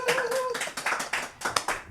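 A short burst of applause on a football talk show, a handful of people clapping fast and close, with quick uneven slaps mixed with brief voices.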